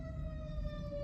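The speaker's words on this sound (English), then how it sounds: "another siren." An emergency vehicle siren holds a steady, faint wail, heard from inside a car over a low rumble of road and engine noise, with no voices.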